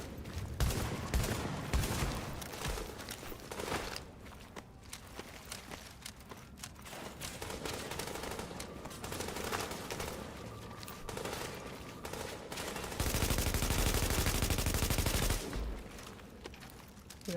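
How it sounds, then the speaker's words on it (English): Gunfire in the video game Tom Clancy's The Division, with dense, rapid automatic bursts and scattered shots running throughout and a heavier, louder stretch of sustained fire near the end. "that guy was shooting me through the window"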